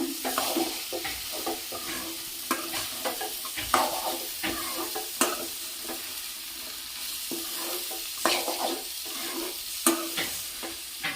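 Finely chopped capsicum sautéed in a pan, a continuous crackling sizzle punctuated by repeated sharp clinks and scrapes of a spatula stirring against the metal.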